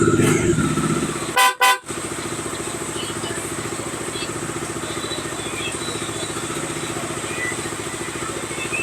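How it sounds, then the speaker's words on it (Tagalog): A loud aftermarket horn newly installed on a Bajaj Dominar 400 motorcycle blares close up in the opening second or so, then cuts off over the bike's steady idling engine, which keeps running alone. "Tinetesting na natin yung kanyang loud horn."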